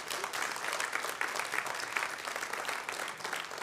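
A crowd applauds at a temple's annual meeting, a sustained even wash of clapping from many people that holds steady for several seconds without pause.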